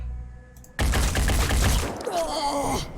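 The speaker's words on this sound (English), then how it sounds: "The old Phoenix Point assault rifle." Assault rifle in the game Phoenix Point opens up after a short quiet lead-in, a loud, dense burst of rapid shots lasting over two seconds, followed by a ringing, warbling tail.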